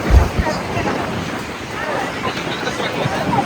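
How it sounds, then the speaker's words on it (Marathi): Sea waves wash ashore at Devgad beach, a steady broadband surf rush with heavy wind buffeting the microphone and a low thump at the start. "लाटा कसल्या भारी."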